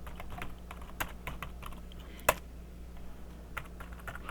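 Someone types a sudo command on a computer keyboard running the SolydX Debian-based Linux distro. Quiet, rapid, uneven key clicks with one louder keystroke partway through and no talking.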